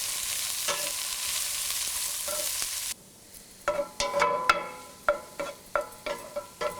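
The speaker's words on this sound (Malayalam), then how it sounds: "ഇതിലോട്ട് നമ്മൾ കട്ട് ചെയ്ത് വെച്ചിരിക്കുന്ന ബാക്കിയുള്ള സവോള, ആവശ്യത്തിന് ഉപ്പ് എന്നിവയിട്ട് നന്നായിട്ട് വഴറ്റുക." Sliced onions with salt sautéing in a pan, first a steady loud sizzle, then quieter frying broken by about a dozen sharp scrapes and clacks of a spoon stirring against the pan.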